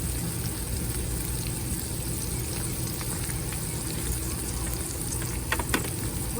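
Deer backstrap seasoned with salt and pepper frying in a pan, a steady close sizzle running throughout with a few brief pops near the end.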